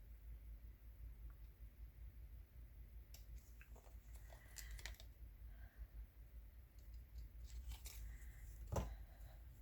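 Scissors snip paper while cutting pieces for a collage art journal, giving a few faint, quiet clicks and crisp cuts scattered over a low background hum, with no talking.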